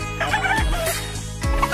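A chicken squawks and clucks in short, loud bursts close by, with a steady background hum underneath.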